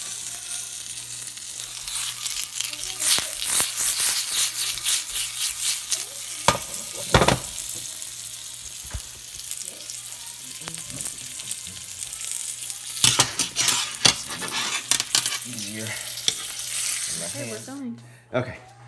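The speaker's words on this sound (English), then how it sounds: "We're gonna take each slice of it and just into the pan" Slices of guanciale sizzle in a skillet, a bright continuous crackle close up, with handling clatter and occasional talk over the frying.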